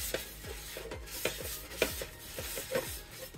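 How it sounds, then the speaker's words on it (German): A small pan is wiped out with oil, giving a soft rhythmic rubbing and scraping that repeats in short strokes, close and fairly quiet, with no voices. "jetzt wische ich ein klein bisschen mit dem Öl aus"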